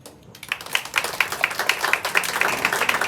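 An audience claps after a children's Mahabharat play staged at a Ganpati festival celebration, a dense round of applause that swells in after a brief quiet start and keeps a steady rhythmic patter to the end.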